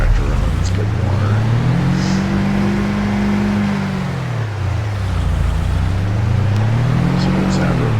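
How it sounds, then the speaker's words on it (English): Tractor engine idling and running in Farming Simulator 22, a loud low hum whose pitch swells and falls in slow waves across the whole stretch, with a few faint clicks on top. "actually I'm gonna leave that tractor on"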